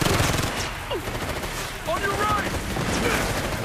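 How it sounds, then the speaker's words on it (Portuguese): Gunfire rattles in the video game Ghost Recon Future Soldier during a firefight, dense bursts of shots forming a continuous loud barrage with faint effects layered on top. "Tomando tiro pra todo lado."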